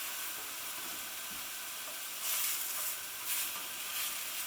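A chickpea flour pancake frying in a pan gives a soft, steady sizzle with two brief swells in intensity, fairly quiet and close, with no voices.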